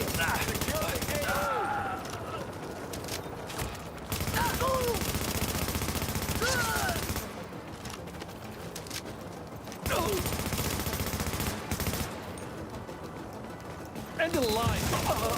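Automatic and burst gunfire in The Division shooter game comes in repeated volleys separated by brief lulls, loud and close, with in-game voices shouting over parts of the firefight.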